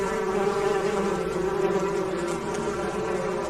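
A steady, dense buzzing of many bees drones continuously and fairly loud, with no pauses and no voices.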